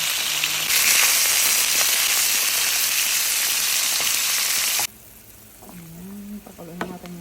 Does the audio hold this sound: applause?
no